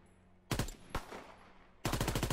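Video game gunfire at targets: two quick automatic bursts with a single sharp shot between them, crisp and fairly close, followed by a trailing echo.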